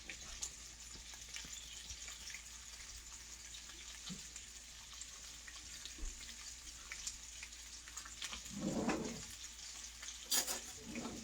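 Sausages fry in a pan with a steady close sizzle and crackle, then a spoon scrapes and stirs them, adding louder bursts of hissing near the end.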